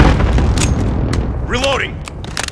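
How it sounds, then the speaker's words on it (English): Enemy precision airstrike in Call of Duty MW multiplayer: loud deep booms and gunfire-like bursts rumble on continuously, while an in-game voice calls out briefly over the blasts. "Enemy precision airstrike."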